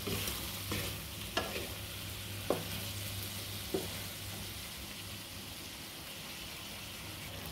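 Chicken liver sizzles and fries steadily in a pan with oyster sauce and light sauce, while a spoon gives a few sharp scraping clacks as it stirs.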